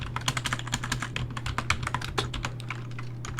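Rapid, irregular clicks of a computer keyboard as someone types Ruby code into an ERB view file, steady and close with no voices.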